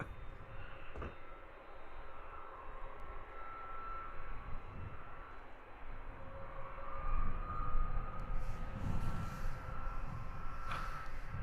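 A DHL cargo plane at Luton Airport makes a distant, faint jet rumble that builds gradually toward the end, with a soft whine over broadband noise and a few scattered knocks.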